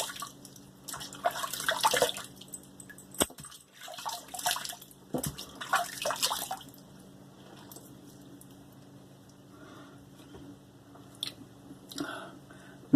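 Water splashes onto a face being rinsed after shaving, with bursts of close splashing and dripping in the first half, then quieter trickles and a few faint clinks against a low steady background hum.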